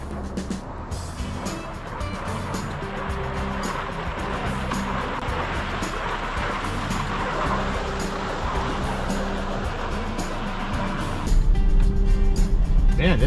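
A vehicle drives out onto frozen lake ice in Alaska at -15 F, its engine and tires making a broad, continuous rumble that grows heavier and louder near the end.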